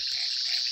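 A chorus of frogs at a lagoon trills steadily, a dense continuous croaking close by and fairly loud, with no talk over it.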